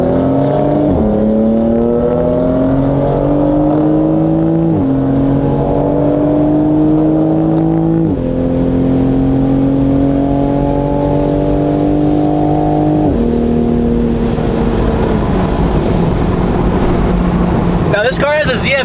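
A BMW-engined Toyota Supra with a ZF eight-speed automatic accelerates up a freeway on-ramp, its engine note climbing through several smooth upshifts, loud and close from inside the cabin with voices over it.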